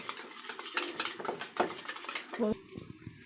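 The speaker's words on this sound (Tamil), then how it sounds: "இது எல்லாமே நம்ம நல்லா மிக்ஸ் பண்ணி வச்சிடலாம்" A spoon clinks and scrapes against a bowl mixing gram flour masala in quick, irregular strokes, close and fairly quiet, ending with a sharper knock.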